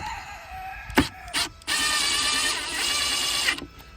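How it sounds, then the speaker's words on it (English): A power drill drives a screw through the end of a wooden hedgehog box, with two brief bursts followed by a longer steady whine lasting about two seconds, close and loud. "Now what we can do is we can put a screw through the end here first."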